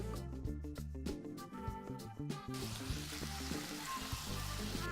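Chopped rainbow chard sizzles in hot oil with cumin seeds in a pan, beginning as irregular crackles and clatters and settling into a dense, steady frying hiss for the rest of the moment, fairly close and without talk.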